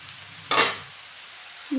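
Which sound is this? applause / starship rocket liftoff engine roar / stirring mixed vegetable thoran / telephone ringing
stirring mixed vegetable thoran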